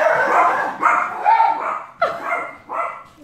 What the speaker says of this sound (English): The minute he barks, it's a new bark